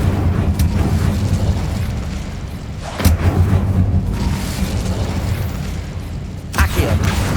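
Incendio fire spell cast in the video game Hogwarts Legacy, a whooshing burst of flame that roars steadily with two sharper pops or flares partway through, loud and close over a rumbling game soundscape.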